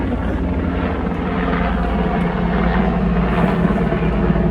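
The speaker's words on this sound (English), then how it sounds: "Some kind of helicopter. Don't you love it?" A helicopter drones loudly and steadily throughout, its rotor throb heavy and continuous, close overhead with no other sounds standing out.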